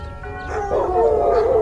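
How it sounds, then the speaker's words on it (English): A bell tolls and backyard hounds howl as a storytelling sound effect, a sustained ringing tone with a rising, wavering howl layered over it, loud and brief. "The bell tolled twice, and the hounds howled from the backyard."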